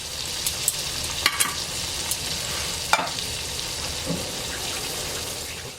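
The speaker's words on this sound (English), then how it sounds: "If you can hear that bubbling noise going on, I splashed a little bit of water in there" Steady crackling sizzle of frying oil in a pan with a little water splashed in, bubbling, with a few sharp pops and spits scattered throughout, close and continuous.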